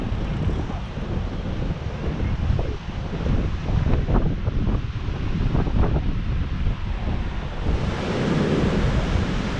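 Ocean waves roll in on a big-wave day at Cocoa Beach, a continuous loud roar of surf with heavy wind buffeting the microphone and occasional breaking crashes.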